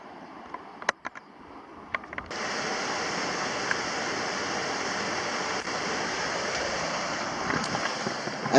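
River in a Colombian gorge flows as a steady, moderately loud rushing wash heard from nearby, preceded by a few seconds of quieter ambience with light clicks before the water noise swells and holds.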